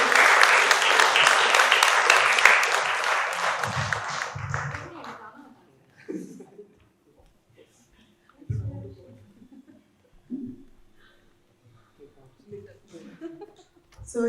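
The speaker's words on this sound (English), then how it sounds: "a big round of applause for all of them" Loud round of applause from an audience closing a session at an arts festival, dense clapping for about four seconds that fades out, followed by quiet room sounds and scattered low voices.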